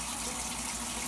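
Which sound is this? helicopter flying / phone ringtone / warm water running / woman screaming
warm water running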